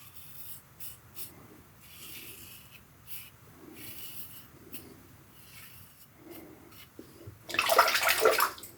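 A titanium Timeless Slim safety razor scrapes across a face in soft, rhythmic strokes. Near the end, a louder burst of running water rinses the blade.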